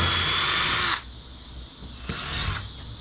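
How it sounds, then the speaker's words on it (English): A power drill pre-drills holes in wood for a box project: a loud, high whining run that stops abruptly, then a second shorter burst after a pause. "let's pre-drill a few holes so that we don't splinter our wood"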